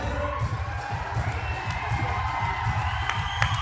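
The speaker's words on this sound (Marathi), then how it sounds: "जोरदार टाळ्या" An audience claps loudly and rhythmically, mixed with cheers and whoops, for the Jai Birsa Munda farmers' group of Kavda village in Kalamnuri taluka. The group is being honoured with a state third prize. The applause is dense and steady throughout.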